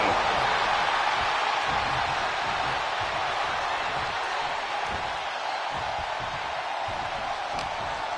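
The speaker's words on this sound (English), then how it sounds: "This crowd is thunderous right now." A dense, steady crowd roar in the WWE 2K25 wrestling game, a continuous loud wash of cheering and noise filling the arena without pause.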